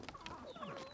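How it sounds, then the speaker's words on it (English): Chickens in Puerto Rico clucking close by, a quick burst of several short, bright clucks and squawks over about a second, with no voices. "These guys used to be running around freely. We didn't have a cage, but then because they're chickens, they're everywhere."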